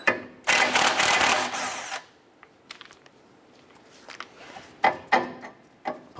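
A power tool whirs loudly for about a second and a half while it backs off the tie rod nut on a 2008-2012 Honda Accord with a 19mm socket, followed by quieter clinks and a few sharp metallic knocks.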